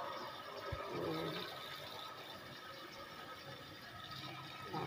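Spinach leaves are swished and rinsed in a basin of water to remove sand, producing faint, close splashing and trickling with a quiet hissy background and no talk.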